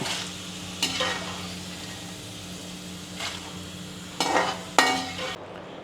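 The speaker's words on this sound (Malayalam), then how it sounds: "ബാക്കി ഇരിക്കുന്ന എല്ലാത്തിനും വറുത്ത് പോരാം നമുക്ക്" Snack pieces fry in hot oil with a constant low sizzle, broken by several sharp clinks and scrapes of a utensil against the pan.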